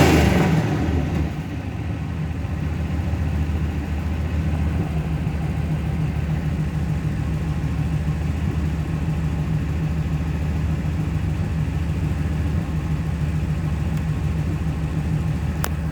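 A car engine runs close by on the gas, a loud steady low rumble with a brief rise at the start that settles into a constant drone, no talking.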